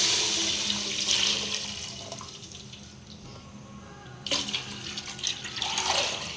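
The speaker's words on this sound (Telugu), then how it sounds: "పాలు చూడండి ఇందులో పోసుకుంటున్నాను" Coconut milk, freshly extracted from two grated coconuts, poured into a pot of rice for Andhra-style coconut rice; a steady liquid pour runs close and fairly loud, easing off midway before a second splashy surge near the end.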